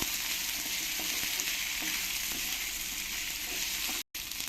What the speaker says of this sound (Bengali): এবারে আলুগুলো আমি পেঁয়াজের সঙ্গে ভালো করে একটু ভেজে নেব